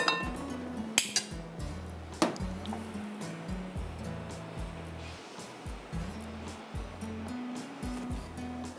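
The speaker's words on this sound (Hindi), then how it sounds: "इसको हम सबको अच्छी तरह मिक्स कर रहे हैं" A spoon stirs ginger garlic paste and spices together in a bowl for kebab marinade, scraping and clinking in a repeated rhythm, with a few sharper knocks against the bowl near the start and steady mixing throughout.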